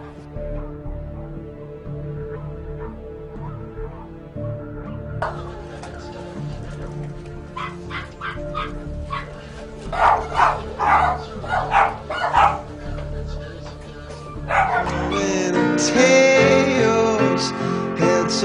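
Dogs in a puppy mill bark and yip in short bursts, several voices overlapping at close range, with whimpering and a rising chorus of high yelps near the end over a steady background hum.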